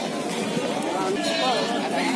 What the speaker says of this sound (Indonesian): Ini ada kambing. Kambing jenis Jawa.